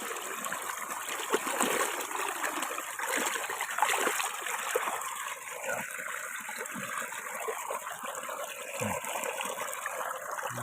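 Water flows and splashes steadily nearby, a continuous rushing trickle with occasional louder splashes and no clear speech.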